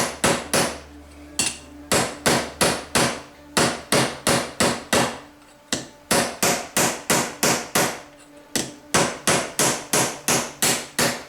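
A hammer strikes a metal exhaust baffle on an anvil in steady, sharp bursts of ringing blows, grouped in quick runs with short pauses between, loud and close with no talking.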